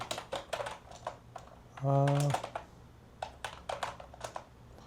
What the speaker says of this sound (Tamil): ஓகே, தப்பாக டைப் பண்ணுறேன்னு நினைக்கிறேன்.